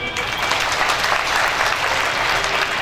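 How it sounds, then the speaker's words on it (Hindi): Participants at a Brahma Kumaris stress-relief camp in Munger, Bihar, clap together in a brisk, even round of applause lasting a few seconds, close and fairly loud. "वेरी गुड, फिर तो ताली बजाए।"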